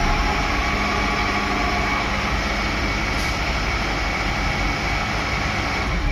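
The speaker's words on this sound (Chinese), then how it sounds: "举升的时候要匀速举升，油门要控制到1700转左右开始举升啊。" A wheel loader's diesel engine revs at a steady, loud level while lifting its bucket of gravel at a concrete batching site, a constant heavy drone throughout.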